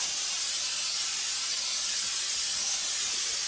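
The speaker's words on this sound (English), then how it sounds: "we're going to take our cookie sheets and we're going to spray them with Pam spray" Pam cooking spray is sprayed onto cookie sheets as one loud, continuous close-up aerosol hiss that stays steady throughout, with no talking.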